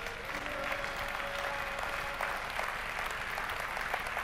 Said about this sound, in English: Can someone give God a clap offering?